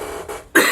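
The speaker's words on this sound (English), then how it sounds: "Please do forgive my coughing." A single close, loud cough burst near the end, preceded by a short throat-clearing breathy sound, with no talking.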